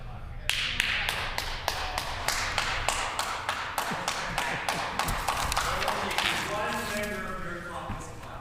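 Members of a provincial legislature clap and thump their desks in a rapid, loud volley of sharp taps that continues steadily, with a voice speaking over part of it.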